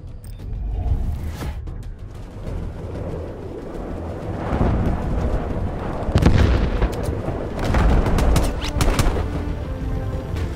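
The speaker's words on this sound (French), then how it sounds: "Artillerie ennemie en approche." Enemy artillery strike in Call of Duty: Black Ops Cold War, online multiplayer on PS4: a sustained rumbling barrage with repeated booming impacts and creaking mechanical noise, swelling louder in the second half, with no talking.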